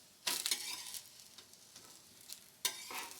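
Jackfruit dosa cooking on a hot pan just after being flipped, with soft sizzling and two louder bursts of frying and scraping near the start and end, quiet and close, with no talking.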